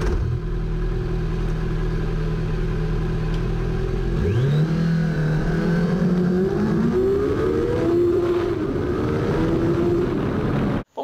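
A Kawasaki Z900 motorcycle with a 948 cc engine idles close by, then revs up sharply and climbs through rising, sustained engine tones before cutting off abruptly at the end.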